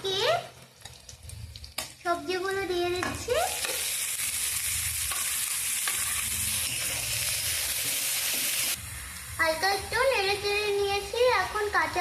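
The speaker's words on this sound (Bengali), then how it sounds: "পেঁয়াজটা কিন্তু হালকা ফ্রাই হয়ে গেছে" Onions hiss and sizzle steadily in a hot pan for vegetable chowmein, a broad continuous frying sound broken by short bursts of stirring, with faint background voices at the start and end.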